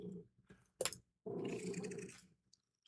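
A cat purrs loudly right up against the microphone, a close, rumbling purr coming in short bursts separated by quiet gaps, with no talking.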